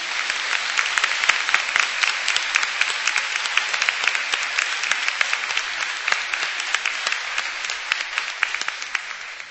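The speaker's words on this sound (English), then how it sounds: "So if you could please join me in a round of applause" A large audience applauds steadily at a nursing recognition ceremony, a dense, even roar of many hands clapping throughout, with no voices standing out.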